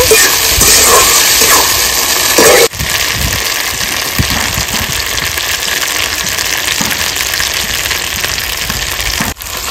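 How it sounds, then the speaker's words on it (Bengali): Spice masala sizzling and frying for a village-style mutton curry, a loud, steady hiss running throughout with brief breaks near the start and end. "সুন্দর করে মশলাটা কিন্তু আমি কষিয়ে নেব।"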